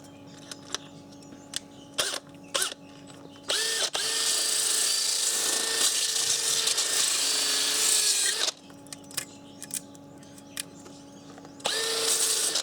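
A battery-powered drill is heard close by, first in a few short triggered bursts with some light tapping, then in a long steady whine of several seconds, then again in short bursts.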